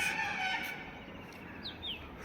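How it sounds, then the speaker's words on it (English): Birds near trees by an outdoor porch give a couple of brief, high chirps that sound faint and somewhat distant. They are set in quiet outdoor ambience with a soft background hum. "The birds are chirping on the porch of trees."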